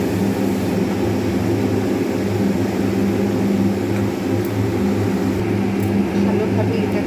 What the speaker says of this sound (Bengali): ভালো করে এটাকে একদম পুরো ফেটিয়ে নিলাম